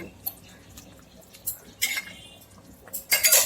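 A spoon clinks and scrapes against a pan while a curry of pointed gourd fritters with ghee and dried fenugreek leaves is stirred, giving several sharp metallic knocks among quieter soft rustles.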